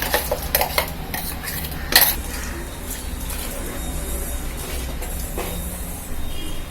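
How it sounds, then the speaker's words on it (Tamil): A metal spoon or ladle clinks and scrapes against a pot of simmering jackfruit curry as a ground onion and coconut paste goes in, with a few sharp taps early on and then a low steady bubbling. "இந்த வெங்காயம் தேங்காய் அரைச்சதை நம்ம ஊற்றிக்கலாம்."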